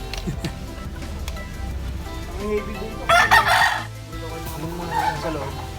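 A Boston gamefowl rooster crows loudly and close, one full crow in the middle, while other fowl cluck and people talk in a backyard.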